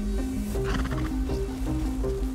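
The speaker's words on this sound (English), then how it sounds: "found a black horse" A black horse in the survival game Rust gives a loud whinnying neigh with a wavering, stepped pitch. The sound sits over a constant low background hum of game ambience.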